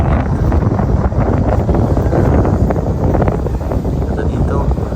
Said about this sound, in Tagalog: Mahangin, medyo malamig ang hangin.